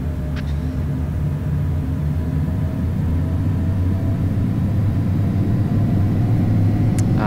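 Airbus A321 jet engines spool up for takeoff in Flight Simulator X, a steady loud broadband roar with low rumble holding throughout, with no talking.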